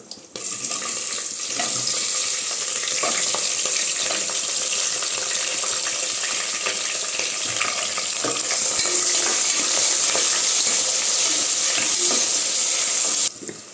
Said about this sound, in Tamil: இப்போ இது கூட நம்ம கட் பண்ணி வச்சுருக்க வெங்காயமும் பச்சை மிளகாயும் சேர்த்துக்கலாம்